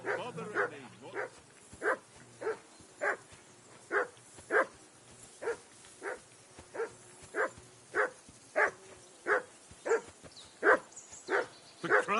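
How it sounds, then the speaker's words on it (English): A dog barks repeatedly in the medieval video game Kingdom Come: Deliverance II, steady loud barks spaced roughly every half second to second over about twelve seconds, with no other sounds competing. "Call off that damn dog"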